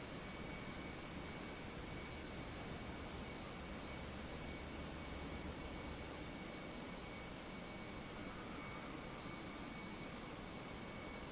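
Latam airliner landing in Microsoft Flight Simulator 2024, a steady loud jet engine roar with broadband rush holding constant throughout, no voices.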